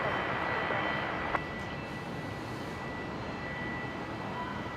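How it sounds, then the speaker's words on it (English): An Air New Guinea airliner lands on runway 19 right at Brisbane International Airport, heard as a steady, broad jet roar that holds evenly at a distance with one brief click. "Daniel Phillips saying the Air New Guinea coming into land on 19 right"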